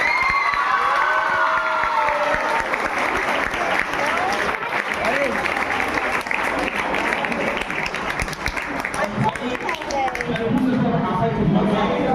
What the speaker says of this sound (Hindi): सिर्फ ताली बजाओ आवाज मत कर